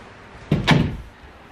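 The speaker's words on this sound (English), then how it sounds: "So then I'll just shut my door." A bedroom door is pulled shut at night, giving a single close, soft thud with a short second knock, alone in a quiet room.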